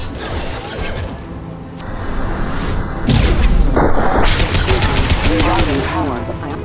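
Heavy gunfire from the Mass Effect 2 video game: dense bursts and booms that build into a loud, continuous volley with no pauses, layered with game sound effects.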